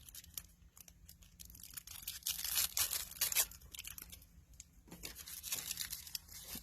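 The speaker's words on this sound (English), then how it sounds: "I have to tear it apart." Paper crinkles and tears in a series of short, close rustling bursts, loudest in the middle, with quiet pauses between.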